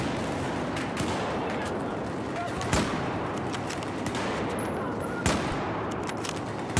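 Gunfire in the video game Battlefield 4, a steady wash of distant battle noise broken by scattered sharp shots, two louder bangs standing out nearby, with a player talking over it.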